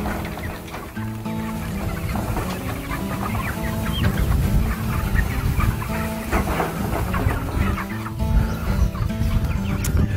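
Dense chorus of chickens clucking and crowing continuously in a bottomless pen on PolyFace Farm, a steady flock din with individual calls rising above it throughout.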